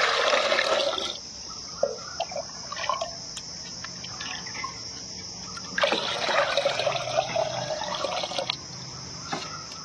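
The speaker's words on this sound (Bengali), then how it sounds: "এর সঙ্গে আমরা যুক্ত করব 2 লিটার জল।" Two liters of water are poured from a mug into a homemade organic NPK fertilizer mix. Bursts of splashing, gushing pour at the start and again midway fade into light trickles.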